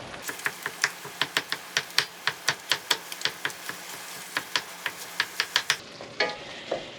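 Maple-flavored breakfast sausage, two pounds of it, frying in a pan and broken up with a utensil, giving a steady run of sharp rhythmic scrapes and taps over a soft sizzle.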